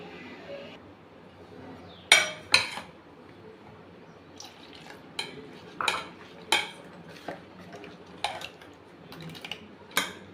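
Millet rava dosa batter being mixed with water in a metal bowl, heard as a run of sharp clinks and spoon scrapes against the vessel, spaced irregularly over a quiet kitchen background.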